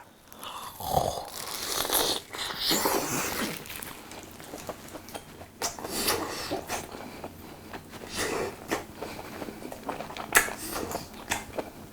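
A whole bacon chunk eaten with ramen and rice brings close, wet biting and chewing in irregular bursts, with soft mouth noises and quiet pauses between bites.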